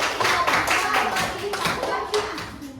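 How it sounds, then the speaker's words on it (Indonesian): A classroom of students claps hands together during a lesson, a short burst of several distinct, fairly close claps in a loose rhythm, with some faint voices mixed in. "tepuk tangan dulu"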